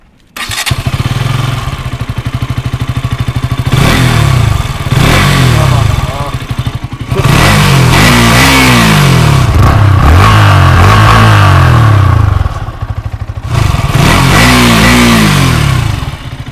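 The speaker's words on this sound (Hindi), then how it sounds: "चलिए यहाँ पर आए तो एक बार इन दोनों का बाइक का एग्जॉस्ट साउंड भी आपको मैं सुना देता हूँ।" A KTM RC 200 motorcycle revving at close range, its exhaust giving repeated loud blips that rise and fall in pitch, separated by short idle lulls, with a voice speaking over it.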